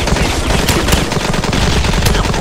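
A Desert Eagle-type gun fires in a shooter video game, producing loud, dense, continuous gunfire that barely lets up from start to finish.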